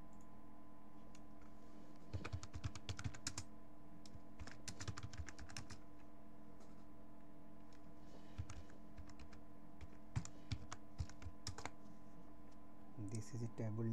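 Fingers tap out a query on a computer keyboard in quick irregular bursts of clicks, fairly faint and close, with steady background hum and a voice speaking over it.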